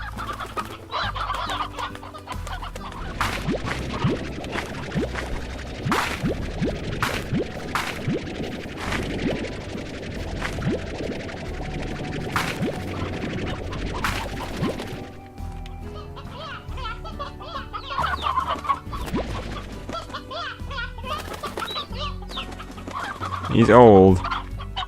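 Hen clucking inside the video game Slime Rancher, repeated soft clucks over game music and sound effects, with someone talking over part of it.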